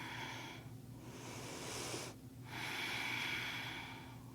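Slow, deep breaths during a mindful movement exercise, a long airy inhale followed by an exhale, close and soft against faint background hum.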